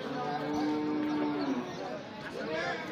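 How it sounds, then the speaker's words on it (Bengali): A bull moos loudly and nearby at the Fansiladanga cattle market, one drawn-out low call over a general market murmur. "আমরা এখানেও দেখছি একটি আকর্ষণীয় সার গরু।"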